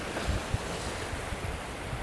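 Ocean waves wash and surge close by, a continuous rushing with wind buffeting the microphone and small splashing bursts.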